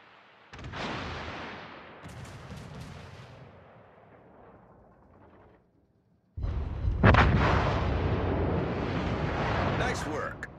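Warship guns fire during a World of Warships clan battle, with booming blasts rumbling under a voice speaking over the game, then a heavier, louder barrage rolls on after a brief lull.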